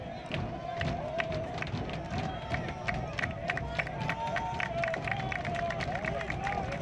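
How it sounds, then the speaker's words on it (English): Packed standing-room-only crowd at a college baseball game between East Carolina and Campbell in Buies Creek roars and cheers steadily throughout, a dense, loud wall of voices with scattered claps and shouts. "Absolutely standing room only crowd here in Buies Creek."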